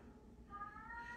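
A cat meows once faintly indoors, a short rising cry under low background noise.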